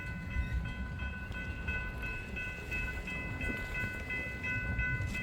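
A freight train rolls past at Bellevue, with a continuous rumble of cars and wheels, steady clatter and ringing metallic tones, fairly close and unbroken throughout, with no talking.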